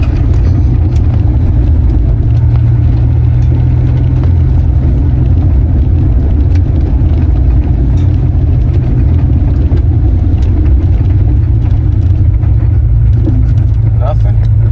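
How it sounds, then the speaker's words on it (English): Inside a Honda Integra fitted with new coilovers, a loud, constant low road and engine rumble fills the cabin while it drives over bumps, with a few faint knocks near the end. "Hitting bumps right now"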